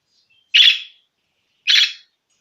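A pet budgie gives two short, bright chirps about a second apart, close and loud against complete silence.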